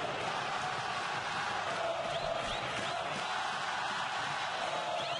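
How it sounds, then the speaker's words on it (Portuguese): A São Paulo football crowd cheers and chants steadily inside a stadium during a Brazilian league match against Bahia, a dense, continuous roar heard from a distance. "É a vez da torcida do São Paulo."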